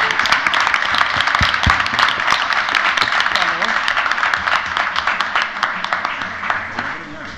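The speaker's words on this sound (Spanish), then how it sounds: "un fuerte aplauso para donde quiera que estén" Crowd applause at a traditional carnival event in El Tablero, Maspalomas, dense and steady for the whole stretch with sharp individual claps standing out, while voices carry faintly underneath.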